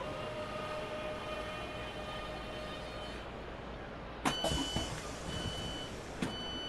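Video game simulation of a 1997 trolley train, with a steady low rumble of the running car and faint tonal hums, then a few sharp clanks and knocks near the end, fairly quiet throughout.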